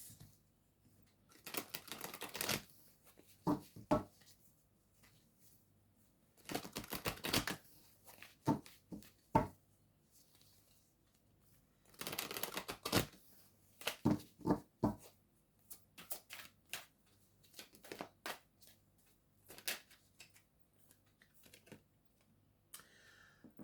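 Oracle cards for a tarot reading are shuffled in quiet, irregular bursts of crisp riffling and flicking, separated by short pauses, close to the listener, with no talking.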